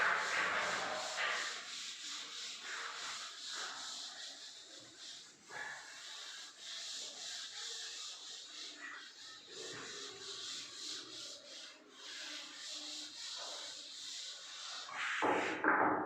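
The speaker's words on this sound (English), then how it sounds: "Let me rub this and write the heading" Chalk or marker writing on a classroom board being rubbed out with a duster during an economics lesson, a steady scratchy swishing in repeated strokes that comes and goes, fairly faint with no talking.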